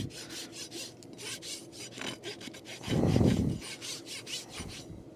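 A farrier's rasp scrapes a horse's hoof in repeated rhythmic strokes, close and crisp, with one heavier, louder rubbing pass in the middle.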